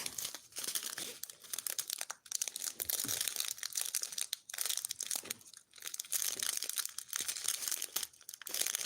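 A plastic packet of diamond painting supplies crinkles and tears in repeated bursts, close up and loud, with short pauses between pulls.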